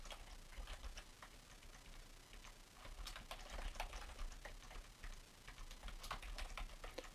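Rapid typing on a computer keyboard while filling cells of an AutoCAD table, with steady close key clicks in uneven bursts and a few louder taps, heard alone without speech.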